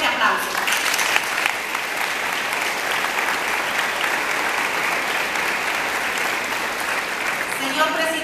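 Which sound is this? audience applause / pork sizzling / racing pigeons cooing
audience applause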